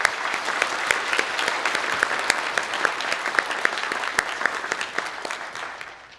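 A church congregation at a special evening prayer meeting applauds its choir, a full, continuous round of clapping with sharp individual claps standing out, steady for several seconds before easing off toward the end.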